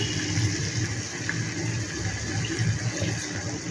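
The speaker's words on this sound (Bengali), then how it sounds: "তো চলো এবার আমি একটু গরম জল দিয়ে দিই এটাকে।" Hot water poured into a pan of shahi paneer curry makes a steady, continuous rushing splash, close and fairly loud throughout with no talk.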